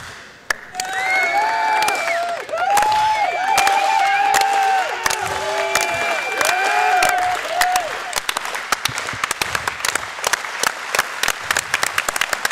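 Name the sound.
crowd clapping for an athlete's final attempt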